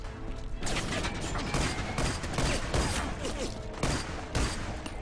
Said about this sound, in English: I'm feeling the FAL, actually. I wonder if it's single shot or automatic.